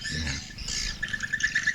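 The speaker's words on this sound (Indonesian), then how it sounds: "Burung sudah semakin ramai." Swiftlets squawk and chirp inside a bird house, a dense overlapping chatter of calls with rapid repeated chirps, fairly close and continuous.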